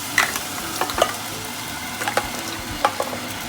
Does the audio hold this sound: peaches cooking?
yes